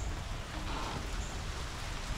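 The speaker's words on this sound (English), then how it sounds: "it does not appear that the rain is going to stop anytime real soon" Steady rain falls over a small town in Aiken, South Carolina, a continuous even hiss of drops on surfaces and foliage, moderately close and unbroken, with no voices.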